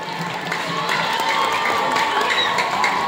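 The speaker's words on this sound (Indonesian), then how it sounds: "marilah kita sambut dengan tepuk tangan yang meriah para siswa yang akan tentu saja tampil pada pagi dan siang ini" A school audience greets students performing a colossal drama about the origins of Reog Ponorogo with lively clapping and cheering, children's shouts mixed into a steady, fairly loud crowd roar.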